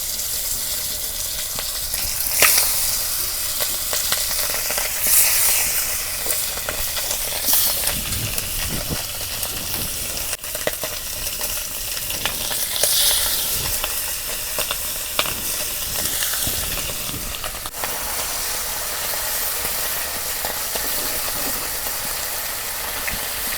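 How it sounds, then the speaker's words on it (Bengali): A pangas fish head fries in a pan with a steady, close sizzle and hiss that runs unbroken throughout, with small spattering pops along the way and no one speaking. "মাছের মাথাটা ভালো করে ভাজা নিতেছি।"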